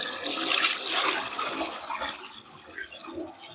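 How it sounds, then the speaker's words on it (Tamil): Water gushes onto the base of a tree on a farm, loud and splashy at first, then thinning into a softer trickling flow. "இந்த அளவு தண்ணி ஊத்துற."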